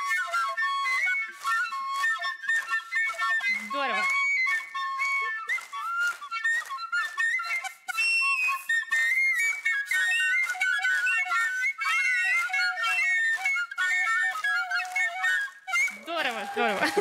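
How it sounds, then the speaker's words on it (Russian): A whistle on a simple tube blown by breath, its tone sliding higher and lower as the blowing strengthens and weakens, in a long run of shrill sustained notes and short bursts, played alone. "Это, по сути, просто трубочка, на которой есть свисток. Когда мы дуем сильнее, звук будет повышаться."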